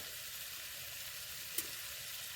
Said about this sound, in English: Now we're gonna add the salmon to this butter